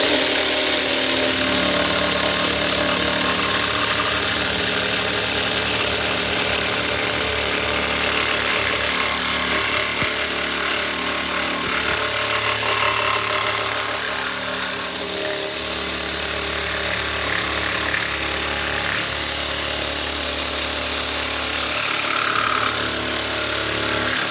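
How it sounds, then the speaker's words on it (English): A Bauer 20V cordless variable speed jigsaw with its laser guide cutting 3/4 inch pine, a loud continuous buzzing and rattling saw noise lasting the whole stretch, with slight changes in pitch as the blade works through the board. "let's cut some wood, shall we? All right, here's just a 3/4 inch of some pine"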